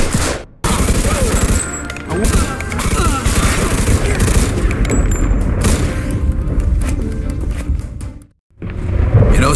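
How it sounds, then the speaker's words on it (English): Heavy gunfire in the Mafia 2 Definitive Edition video game, loud dense volleys of overlapping shots and booms nearly throughout, briefly cutting out twice, with voices mixed in. "Vito, let's shoot this cocksucker."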